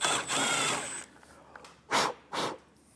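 A power drill boring holes for a backup camera bracket whirs loudly for about a second, then after a pause gives two short, close bursts.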